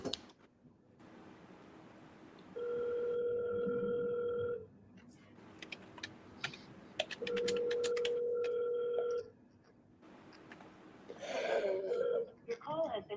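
An outgoing telephone call waits for someone to pick up. Two long ringback tones sound, separated by a quiet pause, with small clicks and handling noise between them and a short burst of noise at the end.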